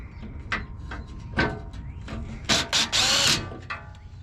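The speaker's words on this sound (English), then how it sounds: "Use the drill, that way it goes faster." A power drill spins bolts out of a Toyota 4Runner in short whirring bursts of varying length, with a longer sustained run near the end over a background of clanks and handling noise.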